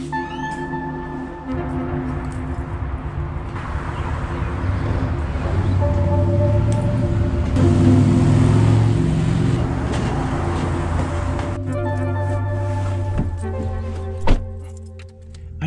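A car rolls along on the way to a gig, a steady low engine and road rumble that swells in the middle, with tonal music playing inside the cabin and a sharp thunk near the end.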